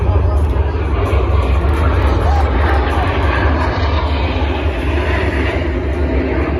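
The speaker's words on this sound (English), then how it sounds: "Five aircraft to the left, 4 to the right." Military jets fly in formation at the 2024 California Capital Airshow, producing a loud, steady, unbroken engine roar with heavy low rumble.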